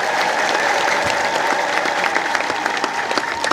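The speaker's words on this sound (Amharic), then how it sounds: "ጭብጨባ ላይ ንፍገት ይታያል።" A church congregation keeps up steady, close applause, a dense even stream of hand claps at a constant level with occasional sharper individual claps and no speech over it.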